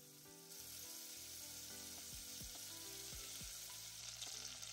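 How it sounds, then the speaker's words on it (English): Butter sizzling in a hot pan, a steady, dense crackling hiss that holds evenly throughout, close up with no talking. "Now we heat up a pan and add 50 grams of butter."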